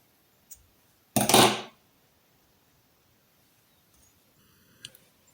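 Crochet yarn snipped off with scissors after a chained stitch: one short, crisp cutting burst in near silence, bracketed by a few faint small clicks of handling.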